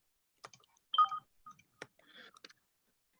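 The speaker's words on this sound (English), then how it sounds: "So I keep hearing a beeping sound. I do believe that's because the chat message." Quiet electronic beeps and short tones from chat message notifications, a few sparse chimes mixed with faint clicks against near silence.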